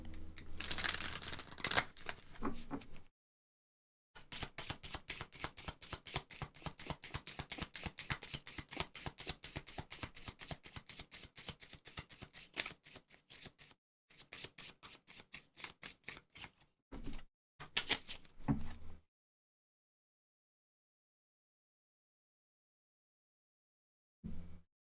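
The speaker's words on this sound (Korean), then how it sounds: "카드 열어보겠습니다" A deck of tarot cards is shuffled over and over, a steady run of quick riffling flicks close up that breaks into a few short bursts near the end before falling silent.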